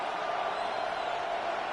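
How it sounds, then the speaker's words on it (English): Stadium crowd noise from the Madden 26 football video game, a steady broad roar of fans building ahead of a third-down play, continuous and fairly distant with no clear voices on top. "This crowd into it now as we get to 3rd down."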